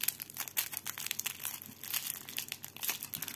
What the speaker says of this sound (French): Tout ça pour vous faire des bruits de papier